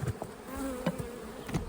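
Young honeybees hum faintly at an open hive in a bee yard, a soft, continuous buzzing with a few closer insects briefly louder as they pass.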